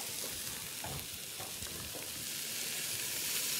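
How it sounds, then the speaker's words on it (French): Fig and lemon tajine covered with water and left to simmer in a pot, giving a steady, broadband sizzling bubble with faint stirring clinks, continuous and fairly quiet throughout. "on couvre le tout avec une belle quantité d'eau et on laisse mijoter"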